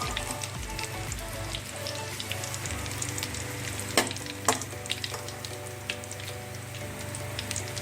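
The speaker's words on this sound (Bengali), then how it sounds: "সবগুলো ডেভিল আমার সুন্দর করে ব্রাউন করে ভাজা হয়ে গেছে।" Egg devils, deviled eggs browning in hot oil in a pan, produce a continuous close crackling sizzle with scattered sharper pops and spits, alone without speech.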